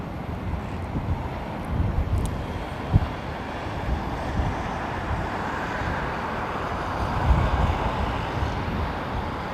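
An Airbus A330 jet lands at Heathrow Airport in rain, a broad, steady roar with gusty wind buffeting the microphone and a few brief swells.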